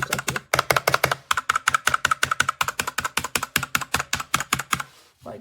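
Rapid, crisp typing on a Redragon K617 Fizz 60% mechanical keyboard, with a steady run of close, clicky keystrokes that stops abruptly near the end.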